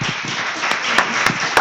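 Applause from a congregation at a church service, a dense continuous patter of many hands with a few sharper claps standing out, fairly loud and close.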